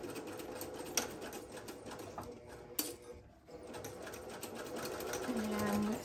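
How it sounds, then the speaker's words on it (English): Sewing machine stitching a seam down a fabric organizer tote with handles, a steady close mechanical whir running almost throughout with a brief pause, with some faint background noise. "sew all the way down till you get to the other stitch"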